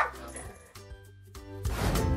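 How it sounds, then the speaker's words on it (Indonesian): A dog barking in short yips during a comic animal scene at a veterinary visit, heard together with music and a voice speaking. "Dia langsung menggonggong sambil melihat rekannya."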